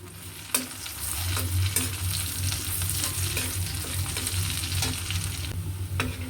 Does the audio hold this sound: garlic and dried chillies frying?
yes